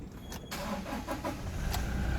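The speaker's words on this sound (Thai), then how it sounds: "ผมสตาร์ทเครื่องให้ดู" A Toyota Revo Double Cab 2.4 pickup truck engine cranks and catches, settling into a rough, close idle with a brief rattle at the start.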